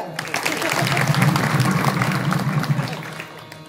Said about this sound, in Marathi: हे जे 2 मागे उभे आहेत ना चोपदार त्यांच्यासाठी टाळ्या वाजवा